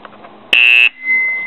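A custom fire alarm system horn blasts one loud, steady electronic buzz for about a third of a second, with a thin lingering tone after it in a quiet room.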